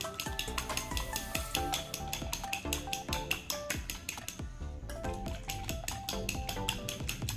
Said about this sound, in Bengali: ডিমটা দিয়ে এখন আমি একটু ফেটিয়ে নিচ্ছি। ডিমটাকে মানে একটু ভালো মতন ফেটাতে হবে।